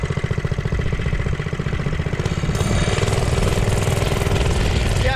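Small single-cylinder engine of a JCPenney Bird minibike running while being ridden around the block, a loud close buzzing putter with a fast even pulse that rises slightly in pitch and load midway.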